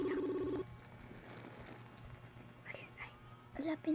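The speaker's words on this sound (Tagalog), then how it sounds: "Nagriring naman pero ba't pinatay niya?" A telephone ringing in short electronic bursts, one clear ring at the start and another at the end, with quiet room noise and faint movement between them.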